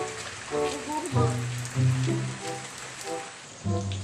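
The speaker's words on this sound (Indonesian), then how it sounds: "Hujannya cepet." Steady rain falls throughout as a continuous broadband hiss, with soft music-like tones and short voiced sounds rising over it in a Sundanese comedy scene.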